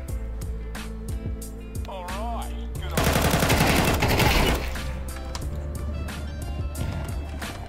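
Rapid automatic gunfire in Counter-Strike 2, dense bursts layered over game music and footsteps, with a louder sustained volley in the middle.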